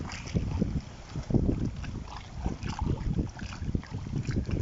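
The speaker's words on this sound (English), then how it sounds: "I don't know whether you can hear the water" Water sloshing and lapping close by, with steady wind noise buffeting the microphone throughout; no one speaks.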